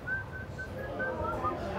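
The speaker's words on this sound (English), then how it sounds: "He whistled the melody." A man whistles a song melody in clear, sustained tones, with short pauses between phrases, close and fairly loud over a low background hum.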